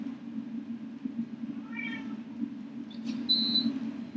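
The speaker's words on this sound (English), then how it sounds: "now my cat is attacking my fan" A pet cat gives a faint, short meow partway through, sitting quietly beneath a steady low electrical hum, with a few brief high tones near the end.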